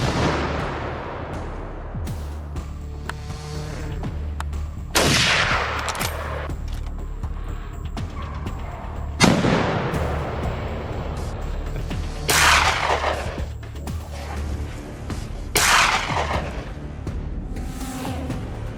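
Wild hogs are shot at with a .308 rifle, heard as five or six heavy, booming shots spaced a few seconds apart, each rolling away in a long echoing tail over a low steady background.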